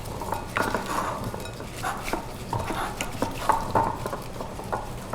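Hands mixing food with oil and herbs in a bowl make close, soft squelching and rustling, with steady wet shuffling sounds and a few light clinks throughout.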